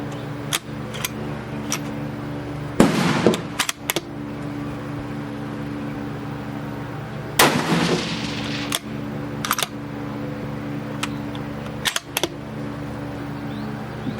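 Mossberg MVP LR rifle firing 75 grain hollow point rounds at a range: two loud, sharp shots a few seconds apart over a steady background hum, followed by several faint clicks and handling noises.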